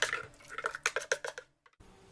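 Banana palm-sugar pudding mixture is poured into a cooking pot, giving a run of clinking, scraping knocks of metal and utensils against the pan, fairly close, before a brief pause and a final clatter.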